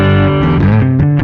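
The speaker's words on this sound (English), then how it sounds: "that's a really nice twin reverb." An electric guitar played through a Kemper profiling amp set to a Twin Reverb profile, ringing sustained chords with a slightly driven, shimmering tone, loud and close with no talking over it.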